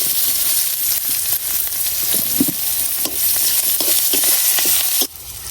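Whole small garlic cloves and onion fry in a pan with a loud, continuous sizzle and crackle, scattered scraping stirs, and an abrupt drop in level near the end; no one talks.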